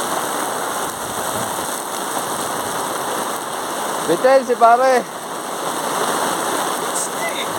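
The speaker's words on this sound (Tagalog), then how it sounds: "Ayan, biglang lumakas ang ulan." Heavy rain pours hard on a barefoot run, a dense, constant roar that swells stronger and stays loud throughout, while a voice speaks briefly in the middle.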